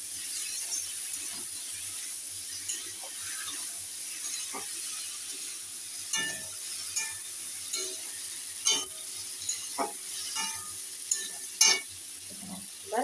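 Egg and green chilies frying in a pan give a soft, steady sizzle, broken by a series of scraping, clicking spatula strokes that grow more frequent toward the end.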